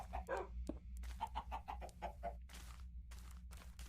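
Chickens in Minecraft's FTB OceanBlock modpack cluck and bawk in a quick run of short calls that repeats, followed by faint rustling and clicks, all over a low steady hum.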